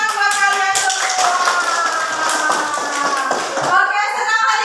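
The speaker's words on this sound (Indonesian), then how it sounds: "Tepuk tangan buat kalian semua." Children in a classroom clap together in a dense, steady patter of claps, with young voices chattering and calling out over it throughout.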